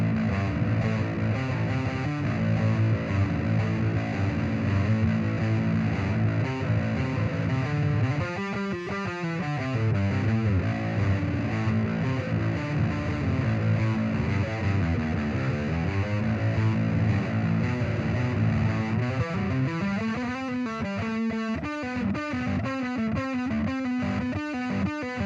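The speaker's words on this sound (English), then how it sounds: "So here, let's just do mostly distortion." Heavily distorted bass guitar through a Boss Katana bass combo amplifier plays continuous riffs, thick and loud throughout, with sustained low notes and a busier rhythmic passage near the end.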